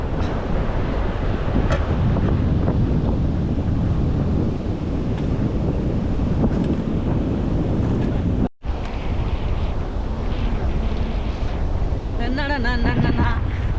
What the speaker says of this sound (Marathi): समोर बघा समुद्राच्या लाटा येतात